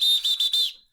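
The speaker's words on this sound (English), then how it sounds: "Go ahead and just blow the whistle on Famous Los." A referee's whistle blown sharply in a basketball setting, a single piercing blast of about half a second with brief stutters, loud and close, then cut off.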